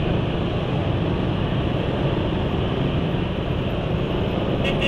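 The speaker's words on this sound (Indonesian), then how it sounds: "suara mesin bagian depan udah mulai terdengar lagi" Rough engine noise comes from the front of an engine running on Shell Rimula R2 SAE 40 heavy-duty diesel oil, a loud, steady, continuous drone with no pauses or talk.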